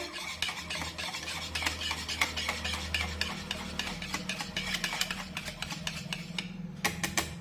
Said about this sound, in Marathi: पुन्हा एकदा हे पीठ चांगलं ढवळून घेऊया